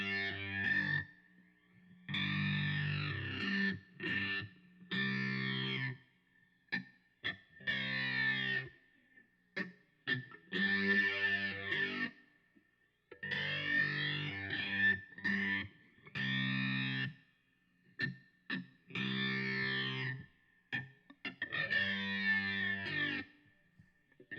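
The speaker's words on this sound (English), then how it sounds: "here's another Korg A3 sound. This is Numb, and this is a setting preset that I made." A Korg A3 multi-effects unit on its "Numb" preset, run through an MXR Dyna Comp compressor, shapes a played instrument into distorted, chorused phrases. Loud, rhythmic bursts of chords and notes separated by brief gaps, with no voices.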